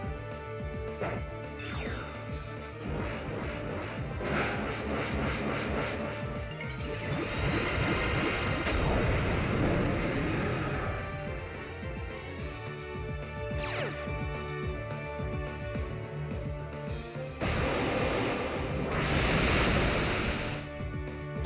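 Rushing water surges in Pokemon Alpha Sapphire's Waterfall attack, a loud roaring wash with crashing bursts and swells, mixed over the game's music and effects with no talking.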